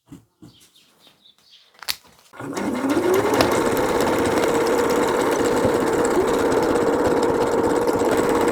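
A sewing machine starts after a few quiet handling sounds and runs steadily, stitching around a baby's beach poncho with a close, continuous whir.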